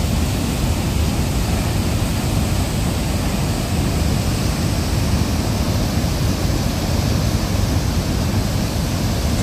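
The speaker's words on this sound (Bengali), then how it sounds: "আমরা এখন এসেছি তামরা ঘুমার জলপ্রপাতে।" Tamra Ghumar waterfall roaring loudly and continuously up close, a dense unbroken rush of falling water with spray, no voices.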